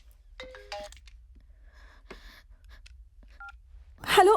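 A mobile phone rings with an incoming call in a dubbed South Indian film scene, heard as short electronic tone beeps mixed with brief voices and a louder burst of sound at the end.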